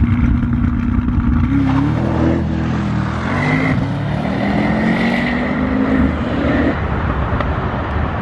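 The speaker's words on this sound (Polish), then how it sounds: "Zobaczcie, jak z tyłu odchodzi ten samochód." A Brabus S800 accelerates hard on a wet road, its engine roaring loudly and climbing steadily through the revs with a shift or two, heard up close from inside the car.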